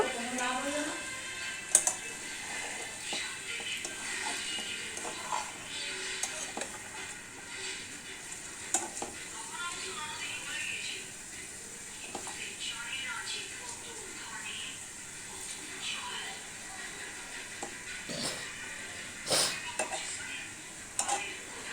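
Taro stolons cooking in a covered pan on a low gas flame are stirred, with scattered utensil clinks and scrapes over a soft sizzle and a voice speaking at times.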